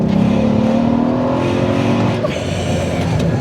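An 800 hp Mercedes E63 AMG held in one gear at full throttle, a loud close engine roar climbing steadily in pitch for a few seconds with no talk over it.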